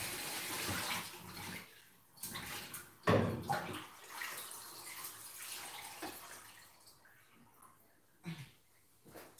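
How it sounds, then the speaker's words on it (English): Running water splashes and trickles as fish is rinsed in a kitchen basin while ogbono soup is being cooked, coming in uneven bursts with a louder splash early on and quieter dribbles between. "I'm just trying to wash my fish here."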